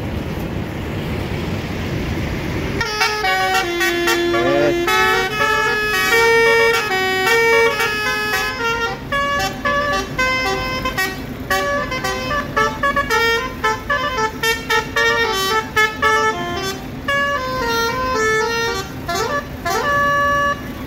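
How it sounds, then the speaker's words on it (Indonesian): Old intercity buses at a terminal sound basuri trumpet horns mounted on the roof, loud multi-tone melodic blasts in a rapid repeating tune that starts after a couple of seconds of engine rumble and continues nearly without pause. "Wih, dua bis ini ada busurinya ya."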